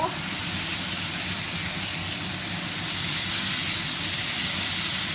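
Pork stir-frying in a pan at home, a steady broadband hiss and sizzle running continuously and fairly loud throughout, with low clatter underneath and no talk.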